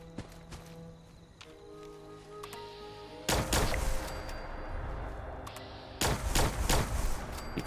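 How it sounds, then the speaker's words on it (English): Gunfire in the video game Fallout 76 while shooting enemies, two loud sharp bursts of shots cutting in over a quieter game ambience of tones and footsteps. "Keep shooting these guys in the head."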